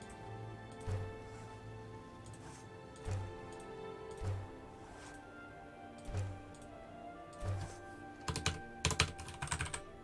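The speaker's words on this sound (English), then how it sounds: "Nope, keyboard still isn't working." Sparse, quiet taps on a computer keyboard come in short isolated bursts every second or so over a steady background hum, ending in a quicker cluster of keystrokes.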